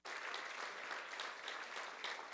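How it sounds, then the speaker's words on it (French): A church congregation applauds newlyweds at a Sunday morning service, with steady, dense clapping that fills the room from start to finish and no voices over it. "Est-ce qu'on peut les applaudir, les nouveaux mariés ce matin?"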